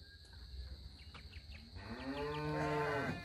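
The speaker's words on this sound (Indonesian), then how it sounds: "Yang di situ ada lengkuhan sapi" Cows lowing in a cattle shed on a farm, one long, deep moo swelling near the end over faint rustling and background noise.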